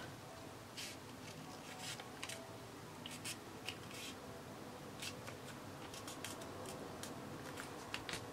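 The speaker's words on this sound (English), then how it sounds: "our strips of spare paper, cut it down. I'm going to fold it in half." A strip of spare paper being folded in half for a junk journal page: soft, close papery rustles and scattered crisp crackles over a quiet steady background, with no talking.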